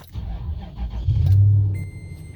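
A truck engine turns over and settles into a low, steady idle close by, with a brief faint high whine near the end.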